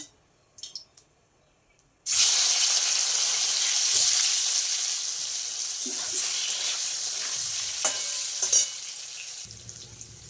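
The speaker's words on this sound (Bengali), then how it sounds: "কড়াইতে জিরে ফোড়ন দিলাম" Cumin seeds hit hot oil in a wok after two quiet seconds, bursting into a loud, continuous sizzle with a few louder pops and crackles partway through.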